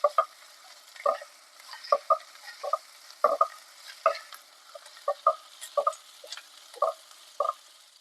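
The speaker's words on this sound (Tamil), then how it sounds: "எண்ணெயிலே வதங்கட்டும்." Ginger garlic paste and green chillies sauté in oil in a pan while a spatula scrapes in quick, regular knocking strokes, roughly two per second, over a faint sizzle, with no voices.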